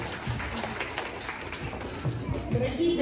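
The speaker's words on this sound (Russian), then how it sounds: "Аплодисменты." An audience at a year-end recital concert applauds, a dense, fairly soft wash of clapping that swells slightly toward the end, with voices mixed in.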